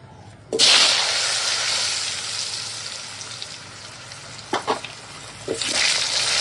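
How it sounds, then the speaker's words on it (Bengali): Potatoes fry in hot oil with a loud sizzle that bursts in at the start, then settles into a steady hiss with a few clattering stirs. "তো চলো আলুগুলো এখন ভেজে নেব"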